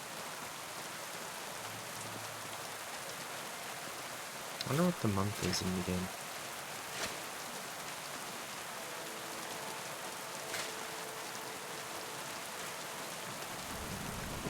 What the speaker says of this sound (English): So raining again, really?